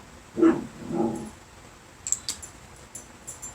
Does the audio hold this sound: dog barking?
yes